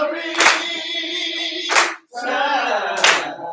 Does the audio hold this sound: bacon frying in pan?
no